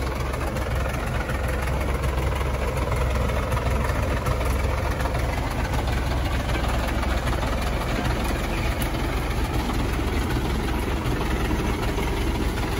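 A GAZ-66 off-road truck's diesel engine idles in a forest mud outing, a steady low rumble with a faint knocking chug that holds evenly and close throughout, with no talk over it.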